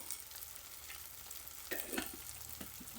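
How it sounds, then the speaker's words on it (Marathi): Masala for butter palak paneer roasts in oil in a pan with a soft, continuous sizzle. A few louder stirring scrapes and clicks come toward the end, and there is no talk. "आपला हा मसाला छानपैकी भाजला आहे"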